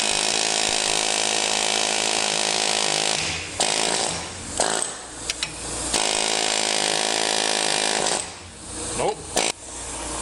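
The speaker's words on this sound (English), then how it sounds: "Doesn't seem like the air chisel's doing the job it should." An air chisel hammering at a wheel stud, a loud continuous rattling buzz broken by short pauses and metallic clanks, with a brief spoken word in between.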